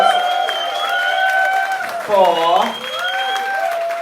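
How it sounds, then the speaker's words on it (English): Applause from a drag show audience at a London venue rises under a strong, sustained voice; brief clapping and cheering swell midway while a single word is spoken. "Huge round of applause"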